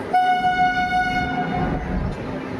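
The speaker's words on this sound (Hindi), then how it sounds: "तो 2 मिनट रुकने के बाद ट्रेन डिपार्चर हो रही है रेनवाल रेलवे स्टेशन से" A train horn sounds loudly and steadily for over a second as the Runicha Express departs Renwal station in India, over the rumble of the moving train, which keeps rolling on after the horn stops.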